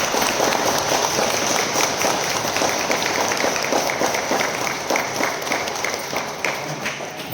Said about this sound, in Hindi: हम लोग ताली बजाएंगे।